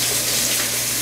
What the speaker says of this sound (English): drain the beans